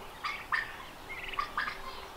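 Turkeys out on fresh grass give several quick gobbling calls, some in short bursts and one rapid rattling run, fairly close over a quiet outdoor background.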